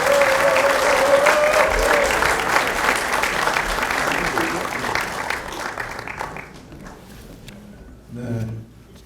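Large church audience applauding warmly to welcome actor Moon Sung-keun at a dedication and founding service, a dense, steady wash of clapping that fades out toward the end, followed by a brief murmur.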